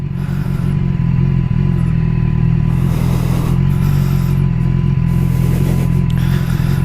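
A BMW S1000XR motorcycle engine idling along at walking pace on full lock, a loud, close, steady low rumble with small rises in revs and no talk.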